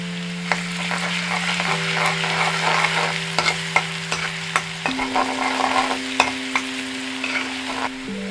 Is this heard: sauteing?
yes